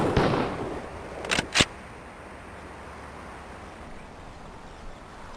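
Shotgun blasts of buckshot in the Police Quest SWAT video game: a loud report at the start, then two quicker sharp shots close together, each fading into a low lingering room tone.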